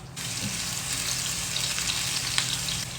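Onions sizzling in hot oil in a pan for adobo, a steady close hiss that holds without a break after a soft clatter as they go in.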